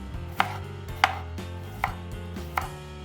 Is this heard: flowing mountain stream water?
no